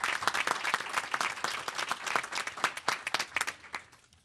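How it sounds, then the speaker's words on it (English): A crowd applauds with steady, dense clapping that fades out toward the end. "Give them a round of applause and all of our members."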